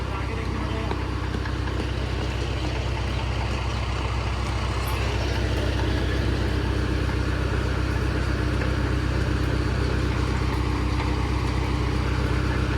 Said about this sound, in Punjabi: ਜਨਰੇਟਰ ਲਿਆ ਕੇ ਜਨਰੇਟਰ ਵੀ ਬੜਾ ਔਖਾ ਫਿੱਟ ਹੋਇਆ